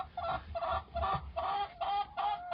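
Several chickens cluck close by in a coop, a repeating series of short, throaty clucks in quick rhythmic bursts.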